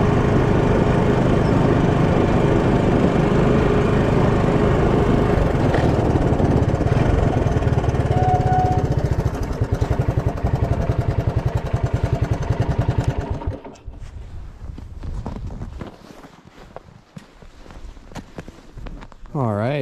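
A small gas engine drones loudly and steadily as an ice auger with new blades bores through lake ice, then shuts off, leaving quieter scattered noises.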